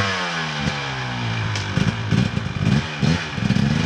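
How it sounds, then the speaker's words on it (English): An off-road dirt bike on the Hatfield-McCoy trail revs hard up close, its loud raspy engine surging and clattering in repeated bursts with no talk. "That bike sounds good, doesn't it?"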